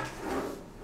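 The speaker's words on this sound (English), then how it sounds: "Drawer" A drawer in a hotel bathroom slides open or shut with a single soft, short wooden rumble, fairly quiet and nearby.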